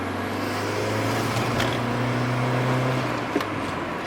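A 3.2-litre car engine idles with a steady low hum, a faint tick near the end, no voices.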